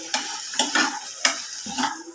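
Cashews and drumstick curry pieces being stirred in a hot frying pan, with four distinct scraping strokes of the spoon over a soft sizzle, close and fairly loud, no talk.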